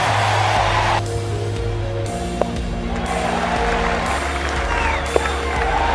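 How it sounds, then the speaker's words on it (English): A baseball stadium crowd roars and applauds after a strikeout, a loud sustained wash of cheering with brief sharp accents. "Cheering on a strikeout"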